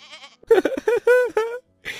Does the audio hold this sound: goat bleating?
yes